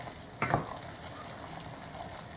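Caramel with peanuts is stirred in a saucepan just off the heat: a quiet scraping, granular stir with a brief louder swish near the start, then faint continuous rustling, close up and without speech.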